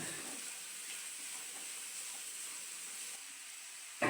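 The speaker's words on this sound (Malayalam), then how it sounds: "സവാള എളുപ്പത്തിൽ വാടി വരുന്നതിനായി അര സ്പൂൺ ഉപ്പ് ചേർത്ത് കൊടുക്കാം എന്നിട്ട് ഇത് നല്ലപോലെ വാടി വരുന്നത് വരെ ഒന്ന് ഇളക്കി കൊടുക്കാം" Sliced onions with a half spoon of salt sizzle steadily in a pan for a Kerala-style prawn roast, a continuous close hiss with faint stirring scrapes and no talk.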